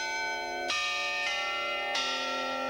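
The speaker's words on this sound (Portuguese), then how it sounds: "O jornal mantém a velha tradição de tocar o carrilhão a cada hora" A newspaper building's carillon bells strike the hour in a slow sequence, each clang ringing out with long, rich overtones that overlap and fade.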